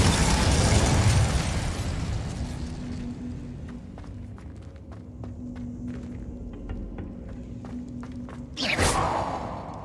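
Incendio fire spell cast in the Hogwarts Legacy video game: a loud whooshing fiery burst near the end, over a low ambient rumble and a scatter of faint clicks and taps.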